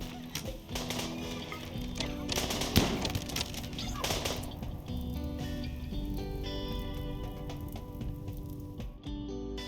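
Automated turret gunfire in the colony-building game RimWorld crackles in a dense cluster of sharp popping shots early on, then thins into scattered faint pops over a steady game background.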